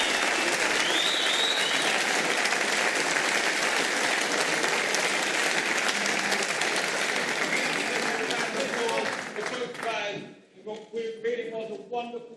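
Crowd applauding snooker players Mark Allen and Shaun Murphy after a final in Glasgow, a loud sustained wash of clapping from a large arena audience for about ten seconds, then a commentator talks as it dies away.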